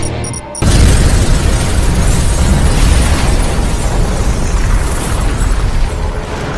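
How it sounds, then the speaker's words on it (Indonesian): A bomb explodes in the action film Code of Silence: after a brief lull, a loud blast swells into a dense, rumbling roar that stays heavy for several seconds, with no voices. "Robert terlebih dulu meledakkan bom yang sudah ia aktifkan."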